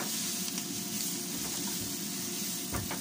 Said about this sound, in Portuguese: Vamos meter aqui o nosso alho. Continuar aqui a refogar aqui um